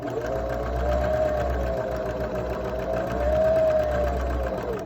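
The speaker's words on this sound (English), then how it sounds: "I'm going to pivot and sew a few times back and forth to end the pocket for the wire" A sewing machine stitches a fabric face mask, running steadily in two sustained bursts as it pivots and backstitches to close the wire pocket, loud and close with no talk.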